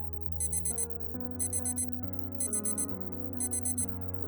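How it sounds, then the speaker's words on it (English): A phone alarm rings in a bedroom with a repeating electronic beep pattern, four quick bright pulses per cycle, over a steady sustained melodic tone, close and clear. "It's the alarm from my phone."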